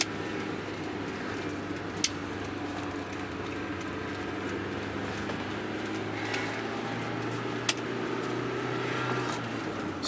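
An old Nissan Sentra driving in first gear, a steady low engine drone and road rumble heard from inside the cabin, continuous and even, with a couple of faint clicks.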